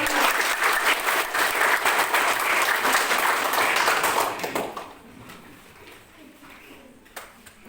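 A school audience at a student council (OSIS) chair and vice-chair candidates' debate at a senior high school applauds loudly and densely for several seconds, then the clapping quickly fades to scattered claps and a quiet room.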